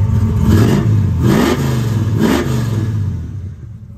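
A 1970 Camaro SS RS engine runs nearby with a deep, throaty rumble, revving up and easing back three times in a steady rhythm.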